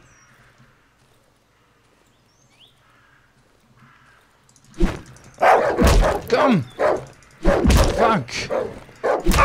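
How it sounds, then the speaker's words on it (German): A dog barks and snarls in the game Darkwood, several loud close barks in bursts after a quiet stretch, with someone shouting over them. "Da ist noch ein Hund. Mit dem müssen wir uns battlen"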